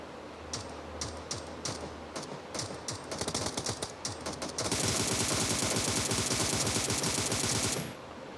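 Gunfire in a PUBG fight: scattered sharp single shots at first, then a sustained rapid burst of automatic fire for several seconds before it stops, fairly quiet overall.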